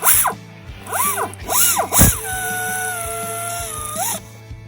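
A tool works an idler pulley bolt on a Jeep Cherokee XJ, close whirring bursts rising and falling in pitch, followed by a sustained tone and a final short spin.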